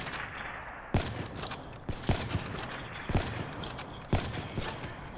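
Rapid gunfire in a 1v1 shooter video game: sharp shots crack out about once a second, each followed by a short clattering burst, against a constant hiss of background noise.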